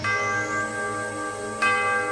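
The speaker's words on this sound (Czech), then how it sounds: "Zvon probudí i lesníka." A castle tower bell in a radio drama rings with two strikes, each a bright metallic clang that hangs in a long, ringing hum, loud and close with no voices.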